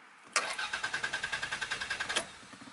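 A car starter cranks rhythmically for about two seconds, a steady whirring churn that stops without the engine catching.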